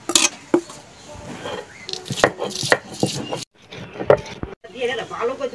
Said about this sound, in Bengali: আমি শাকের মশলা বাটতেছি